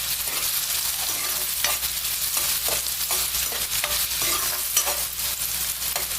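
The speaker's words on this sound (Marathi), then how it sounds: "कांदा चांगला असा गुलाबी होईपर्यंत आपण याला परतून परतून घेणार आहोत" Onions sauté in a pan for prawn masala, a steady loud sizzle broken by repeated scraping stir strokes, close and continuous, with no talk.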